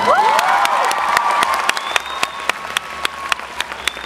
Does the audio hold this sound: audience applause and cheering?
yes